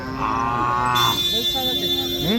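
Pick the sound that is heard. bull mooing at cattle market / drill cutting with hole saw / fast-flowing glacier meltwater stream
bull mooing at cattle market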